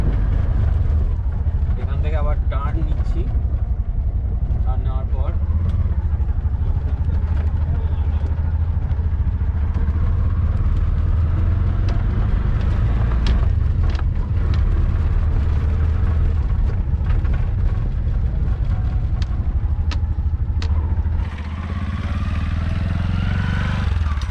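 An auto rickshaw engine runs close by while a learner drives through first and second gear, giving a steady, rattling putter with clattering body noise as people talk over it, until the engine drops off near the end.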